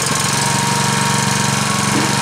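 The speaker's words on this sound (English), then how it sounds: "So turn it on, start the engine" The gas engine of an Airlessco Sure Stripe 3650 airless line striper runs continuously, loud and close, with a steady, rapid knocking chug throughout and no voices.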